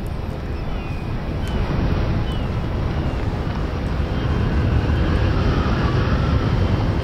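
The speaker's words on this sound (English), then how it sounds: "Super windy, man." Steady wind blowing in the video game Hogwarts Legacy, a continuous broadband rush of gusting air that stays loud and even throughout, with no clear pauses.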